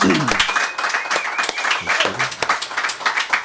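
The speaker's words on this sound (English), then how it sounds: "Give yourselves all a big round of applause." Enthusiastic applause from a live audience, dense clapping throughout with a few cheers and whistles rising above it, sustained and fairly loud.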